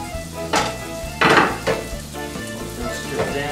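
Herbs added to a hot pan of button mushrooms, a soft continuous sizzle with a few sharper bursts and clinks of stirring, close and fairly quiet.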